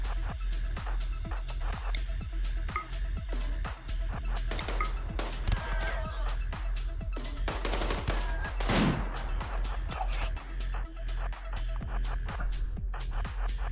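Gunfire in the colony video game RimWorld during a raid, a dense run of rapid shots popping in an uneven rhythm over a steady low hum, fairly loud throughout, with a brief louder burst midway.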